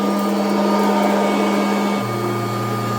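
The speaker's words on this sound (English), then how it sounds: "I'm gonna run it over with the other vacuum here in just a minute" A Kirby vacuum cleaner runs over carpet with a loud, steady motor whine and airflow roar, dropping slightly in pitch partway through as the load shifts, close and continuous with no talk.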